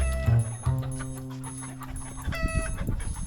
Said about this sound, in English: The chickens have escaped.